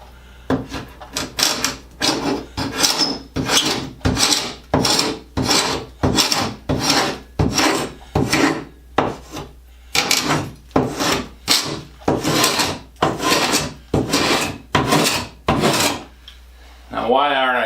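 A sharp homemade blade cut from spring-steel strapping scrapes a wooden door frame in a bathroom remodel, close and loud, in steady rasping strokes about a second apart, each a harsh gritty pass with brief pauses between.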